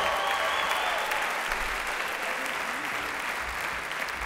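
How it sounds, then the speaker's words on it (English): Steady, full applause from a concert hall audience at Frederick P. Rose Hall, a dense, even wash of clapping that holds at a constant level throughout. "How about another round of applause?"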